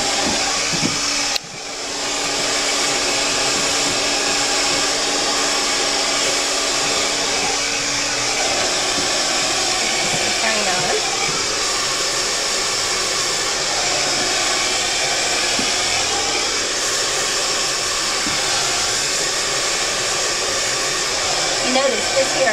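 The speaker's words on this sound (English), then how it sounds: "We call this kind of stretch drying." Hair dryer blowing steadily on wet hair during comb stretch drying at a hair styling academy, a continuous loud whoosh that starts abruptly after a brief dip and holds with little change throughout.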